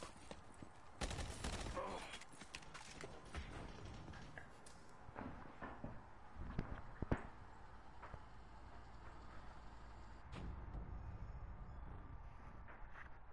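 Video game gunfire at a sentry under attack: rapid bursts of shots and clattering impacts at moderate volume, with a few louder cracks midway and dense action sounds throughout.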